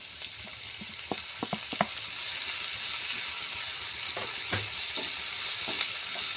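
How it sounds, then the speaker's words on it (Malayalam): A pan sautéing with curry leaves and chopped tomato, a continuous bright sizzle with several quick spoon taps and scrapes early on, close and without speech. "ഇത് നല്ലപോലെ വഴറ്റിയെടുക്കുക."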